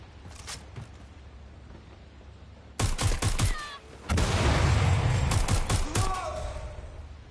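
Gunfire in the video game Watch Dogs Legion comes in loud, close bursts of rapid shots, one volley and then a longer sustained stretch of fire over background game noise.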